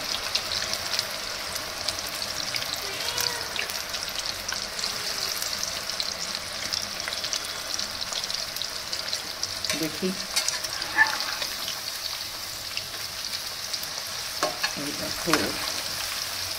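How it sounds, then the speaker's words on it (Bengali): Chickpea pakoras fry in hot oil with a steady, bright sizzle and crackle throughout, with a few faint clinks of stirring and a brief quiet remark from a woman. "ভাজা হচ্ছে।"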